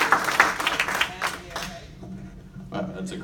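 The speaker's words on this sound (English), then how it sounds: "Round of applause for 2010" Applause from the audience at an EXIT Realty Achieve honors event for an agent, a dense patter that is loudest at first and then thins out, with talking mixed in.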